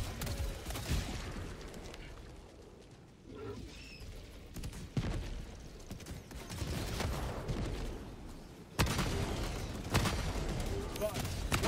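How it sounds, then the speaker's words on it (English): A sentry turret in a video game fires machine-gun bursts, dense rattling salvos with brief lulls, loud and continuous beneath a person talking. "That's a lot of machine guns"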